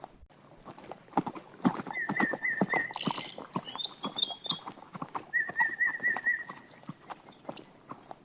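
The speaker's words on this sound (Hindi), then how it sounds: "पूरे जंगल में एक अजीब सा सन्नाटा पसरा था, जिसे सिर्फ उनके घोड़ों के टापों की आवाज ही तोड़ रही थी" Steady clip-clop of horse hooves in a brisk rhythm through a forest, close by, with a few bird calls and chirps above.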